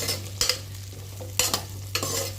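Small onions frying in oil for a fish curry, a low steady sizzle broken by three distinct bursts of stirring and scraping in the pan, with no voices.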